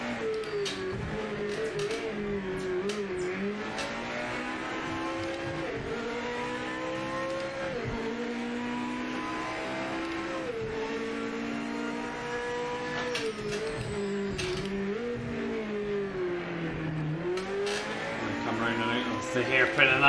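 Old GT500 race car engine in the Project Motor Racing video game, a continuous loud rising and falling drone with repeated shifts and revs over twenty seconds, with a voice talking over it throughout.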